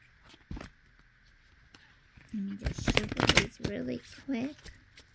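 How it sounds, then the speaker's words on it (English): Quick riffling and snapping of cards being shuffled close by, a short burst of crisp flutters against a faint background hum. "Let me just shuffle these really quick."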